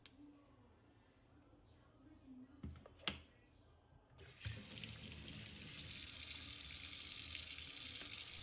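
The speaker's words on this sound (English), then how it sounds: "The first thing I usually do is to rinse the Keris blade under running water." Tap water runs over a keris blade, first as a few faint trickles and knocks, then as a steady, loud stream of running water close by for the remaining seconds.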